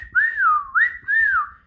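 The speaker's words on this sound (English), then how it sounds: "So I started whistling at my mom." A person whistles a loud, close, clear three-note falling wolf-whistle-like phrase, alone with no talking.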